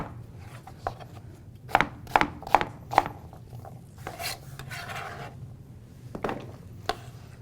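A knife chops through rutabaga and turnip roots on a board, a run of four crisp, evenly spaced thuds followed by scattered softer cuts and scraping.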